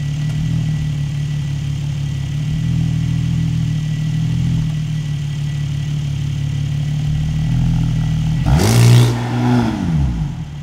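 Porsche 911 with TechArt modifications, engine idling steadily nearby, then a sharp launch-control rev that rises and falls near the end, loud and close with no talk.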